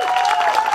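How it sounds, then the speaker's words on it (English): Brief burst of applause from a crowd at Senator Tim Kaine's community visit in Front Royal, thanking a man named Steve; steady clapping fills the short moment with a faint tonal hum underneath. "Give Steve a round of applause"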